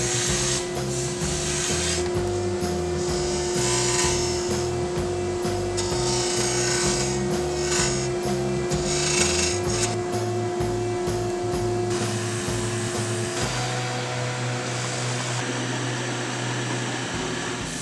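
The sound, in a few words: wood lathe turning salvaged timber for tap handles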